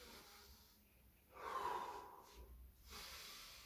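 Breathing during a slow roll-up abdominal exercise, a soft close airy inhale and exhale with a faint snort-like rush of air, heard alone without talk.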